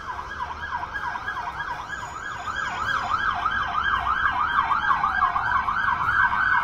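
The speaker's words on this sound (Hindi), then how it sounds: "ये सायरन बजाते हुए फायर ब्रिगेड की गाड़ियां जा रही है।" Fire engine sirens wail in a rapid rising-and-falling pattern, growing louder as they pass by over distant traffic rumble.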